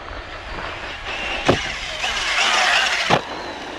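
An Arrma Typhon RC car at full throttle off a ramp, a high electric motor whine that rises and falls, with two sharp thuds of landing and impact, close and fairly loud.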